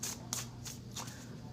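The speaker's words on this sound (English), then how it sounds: "And 3 more shuffles." Oracle cards are shuffled by hand in four quick, rhythmic riffling bursts, close and soft.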